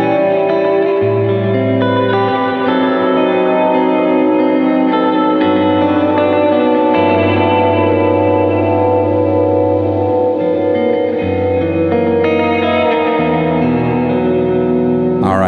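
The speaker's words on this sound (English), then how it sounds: "Very easy to get this pedal into oscillation, but it's also very easy to control." An effects pedal pushed into oscillation gives a loud, sustained ambient wash of echoing, distorted guitar-like tones with shifting drones and layered repeats, no voices.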